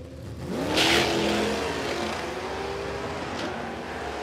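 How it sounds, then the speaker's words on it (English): Aggressive street machine cars drag racing at Warwick Dragway in Australia, an engine revving hard and pulling away with rising pitch, loud at first, then fading into a sustained roar. "here they are racing pretty aggressive street machines"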